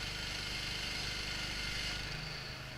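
A gas engine powering a sawmill set up to cut a cottonwood log drones in an even, continuous hum with no voices over it.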